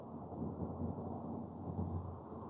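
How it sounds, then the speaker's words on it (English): Far-off thunder rolls as a low, steady rumble during an outdoor fishing session, faint and continuous with no voices over it. "Hearing some thunder."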